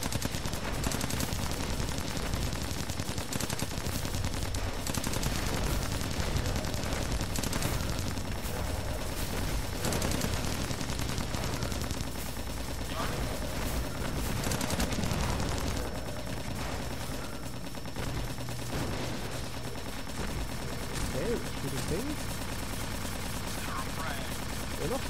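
Rockets and gunfire from the Sun Age video game, a dense continuous barrage of shots and blasts running throughout at steady loudness, with a voice talking over parts of it.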